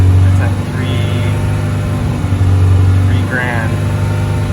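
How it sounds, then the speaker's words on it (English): A car fitted with a loud performance exhaust and an electric cutout holds a steady rev near three thousand rpm, a constant low engine drone close by while someone talks over it. "So if you rev it up here, hold this at. Try to hold it steady here."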